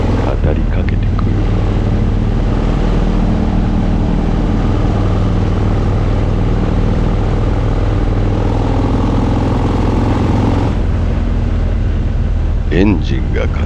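A custom Harley-Davidson FXD-R motorcycle engine runs with a steady low rumble, heard close. A voice speaks over it for much of the time.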